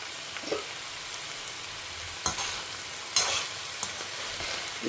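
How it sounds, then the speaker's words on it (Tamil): Vegetables, likely eggplant, sautéing in a pan: a continuous soft hiss of frying with a few sharper stirring scrapes scattered through, close up and moderate in level. "இது கொஞ்சம் வதங்கட்டும் அப்புறமா உப்பு போடலாம்"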